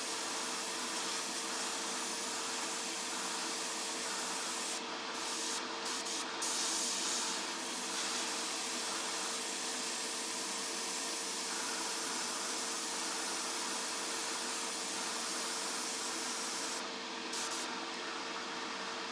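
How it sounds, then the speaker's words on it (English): A spray can mists a top coat onto a panel of a 1:12 scale Tamiya Yamaha RZ250 model motorcycle, giving a steady, close hiss that runs without a break for nearly twenty seconds, with only slight shifts in strength. "I've just got a nice mist coat of the top coat on there, just to let it key in"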